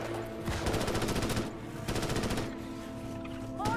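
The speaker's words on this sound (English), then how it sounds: "So, this is a heavy machine gun" Heavy machine gun in Starship Troopers Extermination firing two long sustained bursts of rapid, evenly spaced shots, loud and close, separated by a short pause and followed by a lingering tail.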